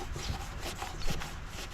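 A cloth wipes and rubs across an aluminium boat surface to clean off grease and oil, giving close, steady scrubbing strokes with a few soft bumps and no talking.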